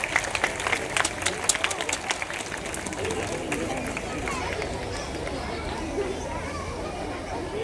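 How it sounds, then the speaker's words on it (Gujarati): Crowd applause greets a digital signboard inauguration in a Gujarati village on Republic Day, with scattered claps at first over steady chatter and babble that carries on throughout. "ત્યાં આપણે તાળીઓ તેમને વધાવશું"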